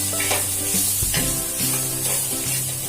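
Green chilli garlic thecha fries in a pan with a constant close sizzle, punctuated by several short stirring scrapes and clicks of a spoon against the pan.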